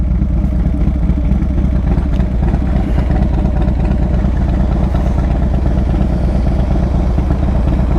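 A Dyna motorcycle engine rumbles steadily while riding into town, a loud continuous low throb with a mechanical clatter, close and unbroken, with no speech.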